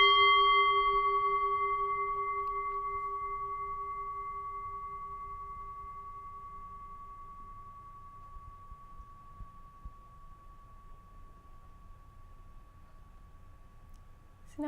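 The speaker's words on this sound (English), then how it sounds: "listen to the whole sound of the bell" A single mindfulness meditation bell rings once with a clear, pure tone that slowly decays into a long, quiet resonance, alone in a hushed room.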